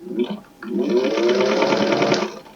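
A sewing machine stitches scrap fabric for a scarf, a short burst of stitching, a brief pause, then a steady close whirring run of about two seconds.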